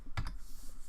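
A few quick keystrokes on a computer keyboard, close and distinct clicks over faint background hum.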